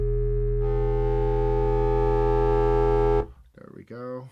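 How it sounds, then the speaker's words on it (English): A synth tone in the Serum 2 synthesizer run through its new Overdraft distortion effect: a loud, sustained buzzing drone rich in harmonics that cuts off abruptly, followed by short bursts of speech. "Let's add some distortion. I got some new distortions. Let's try the new one."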